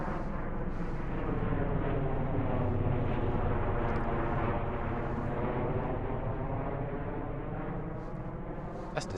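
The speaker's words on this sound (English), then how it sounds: "That's the same airplane that's done flown over top of me about 3 times in a matter of 20 minutes" Airplane passing overhead, a steady broad roar with a low rumbling drone that holds loud and continuous throughout, with no talk over it.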